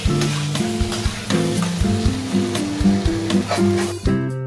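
Jackfruit curry sizzles in a pan while being sautéed and stirred, with frequent scraping strokes from the stirring utensil over a steady frying crackle, close and fairly loud throughout.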